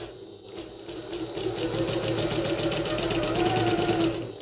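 A sewing machine runs a seam on a bucket tote at a 3/8 inch seam allowance, a brief pause giving way to a steady, rapid needle chatter and motor hum close by, with no voices.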